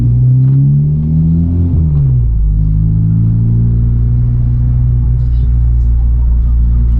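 Honda Civic Type R engine with PRL charge pipes and its engine light on, heard from inside while driving: a loud, steady low rumble, with the revs sweeping and dropping early on before it settles into an even cruising drone.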